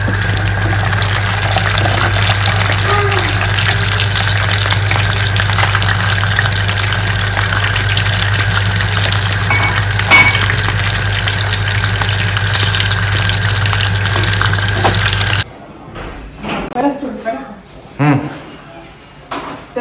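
Fish shallow-frying in a pan over a low gas flame gives a steady, loud sizzle with a constant low hum beneath it. Near the end it cuts off, leaving quieter scattered clatter.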